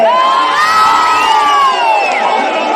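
A large crowd cheers and whoops loudly and continuously in welcome at a political election campaign rally.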